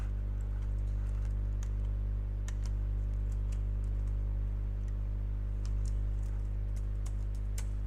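A computer keyboard is typed on in light, irregular clicks, some quick runs and some single taps, faint over a strong steady electrical hum.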